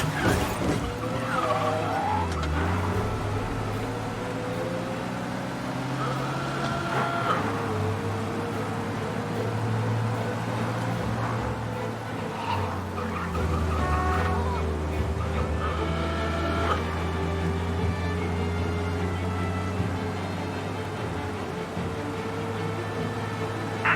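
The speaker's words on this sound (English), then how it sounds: "We lose them by driving real fast and getting clear of them." A car engine in Mafia: Definitive Edition roars and revs steadily at speed, with tire and road noise. A siren-like tone rises and falls in the background.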